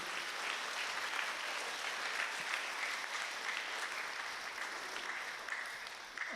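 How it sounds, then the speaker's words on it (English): Sustained applause from an audience at a math league awards ceremony for students, steady and dense throughout with no voices over it. "let's give them all a round of applause for a great week"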